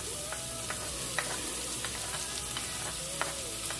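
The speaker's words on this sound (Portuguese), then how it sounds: "a gente vai dar uma leve fritada nessas cebolas" Chopped onion fries lightly in a pan, a soft even sizzle steady throughout, with faint scattered clicks of a utensil against the pan.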